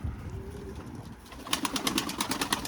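Domestic homing pigeons in a loft on a hot, humid summer day coo softly, then a quick run of rhythmic wingbeat-like pulses follows, close and fairly loud.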